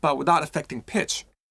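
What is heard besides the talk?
None of the usual background noises is heard.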